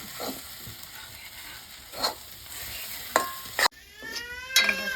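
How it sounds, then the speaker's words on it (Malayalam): Okra stirred with coriander powder in a pan for a curry, a spoon scraping in a few soft strokes over a low steady sizzle, with a couple of sharper utensil clinks near the end. "മല്ലിപ്പൊടി അങ്ങോട്ട് ചേർത്ത് കൊടുത്തിട്ട് നല്ലതായിട്ട് ഇളക്കി"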